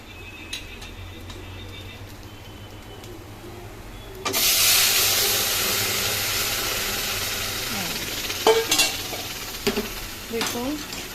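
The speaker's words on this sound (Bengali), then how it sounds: "লাল লাল করে ভাজা হয়ে গেছে, এবার আমি ডালটা ঢেলে দেবো।" Red lentils are poured into spices fried until reddish in a pan, setting off a sudden loud, sustained sizzle with stirring scrapes and clinks. The sizzle follows a quieter stretch of low kitchen noise, and no one speaks.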